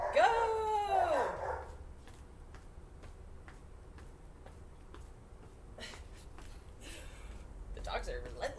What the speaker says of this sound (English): The dogs are relentless this morning.